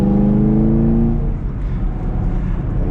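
A 2022 Chevrolet Camaro 2SS 1LE with manual transmission revs up loud and close, its pitch climbing smoothly before settling into a steady, throaty drone.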